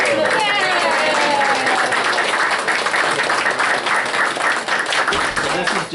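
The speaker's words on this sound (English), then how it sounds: "Big applause." Applause and cheering from a crowd at a school board meeting as a student is welcomed, clapping mixed with voices and calls throughout.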